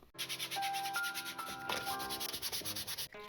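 Rapid, rhythmic scratchy sanding strokes on filler primer, building a Star Wars Pit Droid model, run steadily throughout, close to the microphone, with tonal background music playing underneath.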